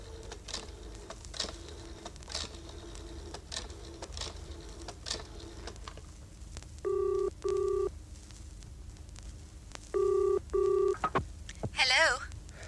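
A telephone is dialed in a quiet room, with two pairs of crisp push-button tone bursts spaced apart and faint background sounds between them, followed by a short rattling noise.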